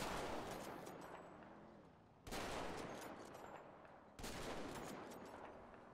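Gunfire in a roleplay video game comes as three loud, evenly spaced bursts, each trailing off in a long decaying rumble before the next, with no voices.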